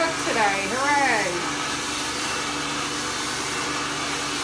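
A handheld hair dryer blows steadily and loudly at close range while styling hair, a continuous broadband whoosh, with a person's voice rising briefly over it near the start.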